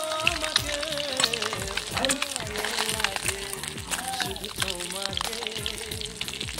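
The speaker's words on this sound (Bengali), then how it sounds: "ডিমটা প্রায় লাল লাল করে ভাজা হয়ে এসছে" Eggs frying in hot oil, a continuous close sizzle and crackle with bursts of spatter and scraping, while a person talks throughout.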